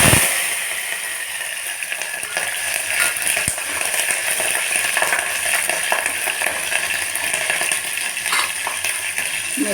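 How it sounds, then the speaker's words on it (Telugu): Green chillies frying in a spoonful of hot oil with mustard seeds, cumin and tempering spices for a ladies finger (okra) curry, a steady close sizzle with small clinks running throughout. "పోపు దినుసులు వేసాక పచ్చిమిర్చి వేయాలండి"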